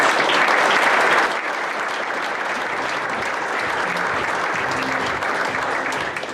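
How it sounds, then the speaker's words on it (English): Sustained audience applause at the PGA South Africa awards and graduation ceremony, a loud dense wash of many hands clapping that eases slightly after the first second and continues steadily, with faint voices underneath. "please give them also a nice round of applause"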